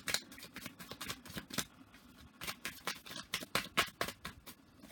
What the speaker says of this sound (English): Oh, sorry, I've got issues with shuffling.